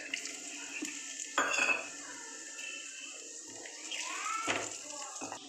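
Dried red chili, bay leaf, cinnamon and small cardamom pods sizzle in hot oil for a fish curry. A steady, bright hiss runs throughout, with a few louder bursts of stirring and utensil clatter.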